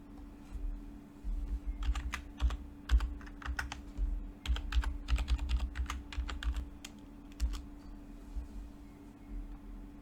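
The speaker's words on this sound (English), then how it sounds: "I enter the username and password I just set in the console." Quick bursts of keystrokes on a computer keyboard as a username and password are entered into a console, close and clear, clustered in short runs with pauses over a low steady hum.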